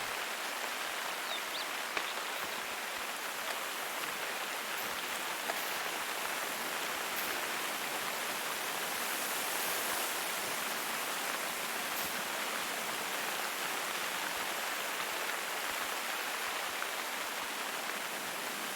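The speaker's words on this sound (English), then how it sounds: "Wow, this is a rainstorm." Heavy rain pours down in a dense, constant hiss of countless drops striking surfaces, steady and even throughout, fairly soft overall with no voices.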